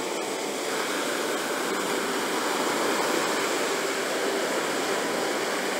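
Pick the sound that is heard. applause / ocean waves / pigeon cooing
ocean waves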